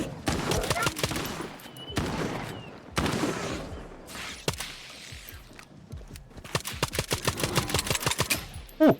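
Pistol shots in the video game S.T.A.L.K.E.R. 2 crack out in repeated bursts, a dense run of sharp reports near the end, with voices talking between and over the firing.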